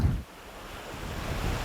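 Sea waves wash steadily along a shore as a continuous broadband surf roar, with wind buffeting the microphone, alone and without talk.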